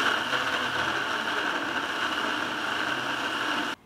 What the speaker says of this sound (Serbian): Poklopit ću i sve izblendirati.